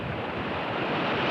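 Ocean waves surging onto the shore, a dense, loud wash of surf noise with some wind, heard alone and without talk.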